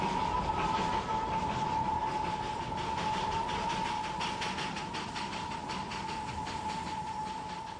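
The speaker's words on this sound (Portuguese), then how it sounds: "o trem aproxima-se do anel de Batazia" A mountain train on the Darjeeling line rumbles steadily along its rails near the Batasia Loop, with a continuous mechanical roar and a faint high whine, rhythmic clatter pulsing through it.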